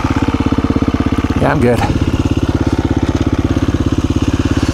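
A KTM dual-sport motorcycle engine idles close by with a loud, steady, even chug. Someone speaks briefly over it midway.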